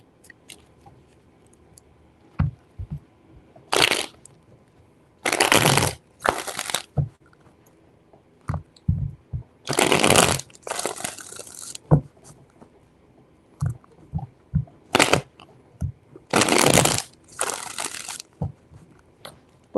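Repeated bursts of crisp riffling and shuffling of tarot cards, each lasting about a second, separated by quiet pauses and light taps, close to the microphone.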